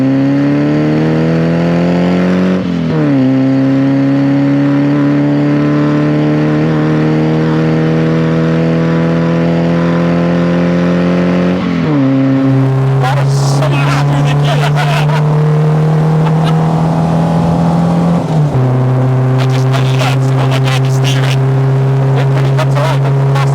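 A cammed, carbureted Peugeot 205 GTi stage rally car engine revs up repeatedly through rising pitch sweeps, loud and close, with gear changes and rough bursts between pulls; a voice speaks briefly at times.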